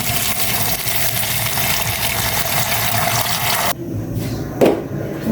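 Water pours steadily into a cooking pot for chicken broth seasoned with chicken cubes and salt, a loud continuous gush that stops abruptly, followed by a quieter splash and a brief clunk.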